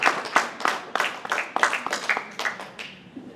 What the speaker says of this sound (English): Now is usually when you clap.